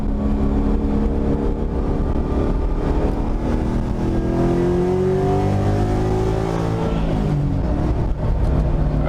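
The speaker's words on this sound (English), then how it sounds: "I'll get some revs up here." A New Edge Ford Mustang fitted with a TKX transmission revs hard, its engine note climbing steadily through the gears and dropping at a shift, loud and close with no talking.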